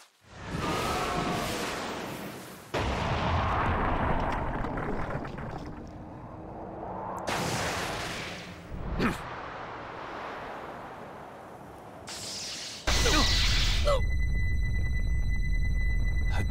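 Sage Art White Extreme Attack jutsu in Naruto x Boruto: Ultimate Ninja Storm Connections, a series of whooshing, roaring energy blasts with abrupt cuts, ending in a loud sustained rumble with high ringing tones.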